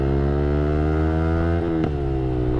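A 2019 Yamaha R15 V3 motorcycle with VVA accelerates, its engine a loud, close, steady drone that climbs slightly in pitch with a brief dip midway, with no voices.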